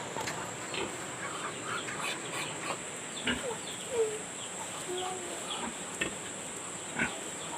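Pigs grunt and snort intermittently amid farmyard noise, with scattered bird calls and a steady background hum.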